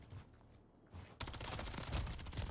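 Rapid gunfire in a first-person shooter game, dense bursts of shots that grow louder and more continuous after a brief quieter lull.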